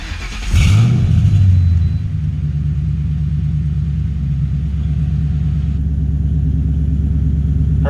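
A car engine cranks and fires up with a brief rev, then settles into a steady, close idle rumble that continues evenly, with no talking.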